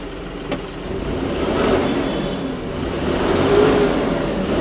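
A John Deere 5075E tractor engine revs in forward gear, a loud steady mechanical drone that swells and eases a couple of times, with no voices over it.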